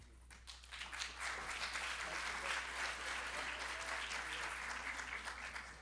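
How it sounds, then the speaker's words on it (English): Audience applause for a speaker at a LEAD 2016 event, a dense, steady roar of many hands clapping that holds evenly throughout, fairly distant and soft. "let's give him applause"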